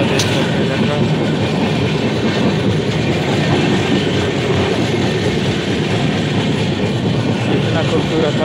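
Constant loud rumble and rattle from inside a moving passenger train, steady rolling noise with a faint clickety-clack of wheels on track and no breaks.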